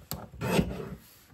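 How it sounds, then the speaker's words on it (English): A paper trimmer slicing through a sheet of paper for a scrapbook page kit, one short, close rasping cut that swells and fades within about a second, with no talk. "Just a little bit more to go with the trimmer and we're gonna be set."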